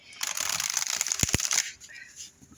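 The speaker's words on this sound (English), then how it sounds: "You can riffle shuffle without any problems." A deck of oracle cards made of cardstock is riffle shuffled up close, giving a quick crisp flurry of fluttering card riffles and a couple of sharp taps, then quieter handling with no speech.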